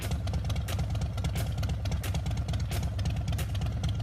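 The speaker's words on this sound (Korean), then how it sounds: "깊고 강렬한 엔진 소리가 힘차게 땅을 울립니다." A heavy motorcycle weighing over 300 kg idles close by, its deep engine thumping in a steady, even rhythm throughout with no talk over it.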